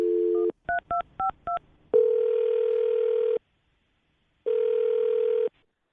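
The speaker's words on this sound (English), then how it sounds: "I'm going to dial the phone number." A steady dial tone, then a quick run of five keypad beeps, followed by two long ringback tones separated by a pause.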